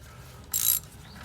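Ratchet wrench loosening a spark plug on a 2006 Mini Cooper S: a single quick, close burst of clicking pawl teeth lasting about a quarter second, set against quiet background.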